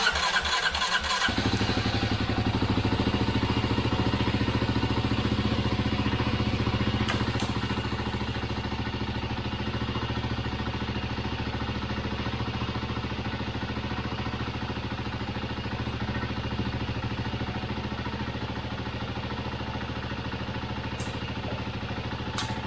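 A 2023 Kawasaki KLX300D dirt bike, suspected of oil starvation, cranks and fires up, then settles into a steady, close idle that runs on for some twenty seconds.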